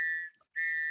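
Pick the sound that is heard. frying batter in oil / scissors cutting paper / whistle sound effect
whistle sound effect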